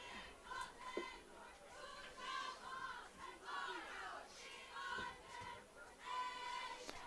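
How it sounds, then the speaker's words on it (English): Crowd at a high school football playoff game, Deuel against MCM, a sustained roar of cheering and shouting voices that swells and falls in waves, heard from a distance across the stadium. "Good crowd here tonight."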